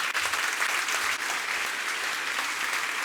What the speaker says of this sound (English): I think she deserves a round of applause for the work she's done